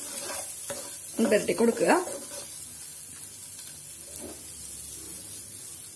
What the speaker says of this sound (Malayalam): 2 മിനിറ്റ് ചെറുതായിട്ടൊന്ന് ഇതുപോലെ ഫ്രൈ ചെയ്തെടുക്കണം.